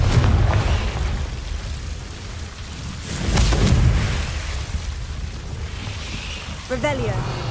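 Spell blast from the Confringo fire spell in the video game Hogwarts Legacy, a deep rumbling burst mid-clip over a continuous noisy game background, with a voice speaking over the scene.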